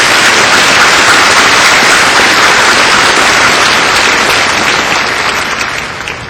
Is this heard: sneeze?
no